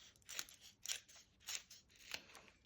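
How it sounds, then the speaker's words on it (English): Scissors snip through foam pads for a handmade wedding card, four crisp cuts spaced evenly about half a second apart and a sharper click at the end, close and fairly quiet with no talking. "Just going to trim the foam pads down."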